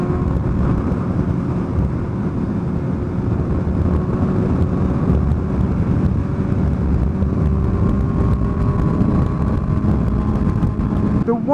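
Steady drone of a 2017 Suzuki GSX-S 750 motorcycle engine while riding, a smooth continuous hum mixed with heavy wind rush, loud and unbroken throughout.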